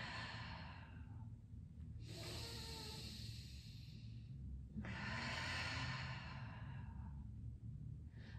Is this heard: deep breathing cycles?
yes